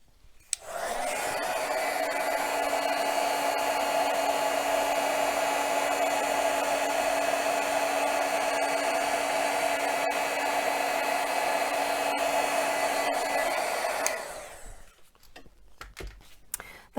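A heat tool melts embossing powder on a Christmas card, blowing with a steady, loud whirring hum for about thirteen seconds after switching on, then cutting off and winding down, with faint handling sounds afterward.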